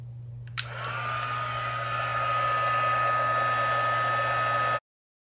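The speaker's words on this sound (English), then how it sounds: "I'm just going to bring in my Stampin' Up! Heat tool, put this on setting 2, and I'm going to heat set this" A Stampin' Up! heat tool on setting 2 switches on and blows hot air for heat embossing on a card, a steady close whoosh with a whine that rises and holds before it cuts off abruptly.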